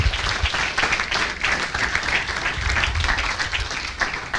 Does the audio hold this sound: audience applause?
yes